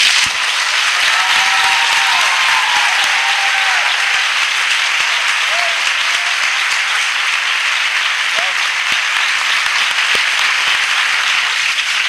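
Sustained applause from a church congregation, dense and steady throughout, with faint voices and a brief vocal tone rising over the clapping.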